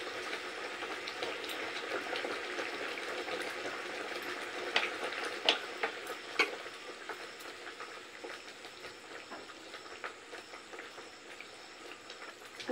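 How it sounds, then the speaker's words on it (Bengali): Stuffed kakrol (spiny gourd) curry simmers in a thick, spiced gravy, giving a steady close bubbling and sizzling hiss with a few sharp pops, and no one speaks. "আর 2 মিনিট ফুটলেই হয়ে যাবে আমাদের কাঁকরোলের এই নতুনত্ব রেসিপিটা"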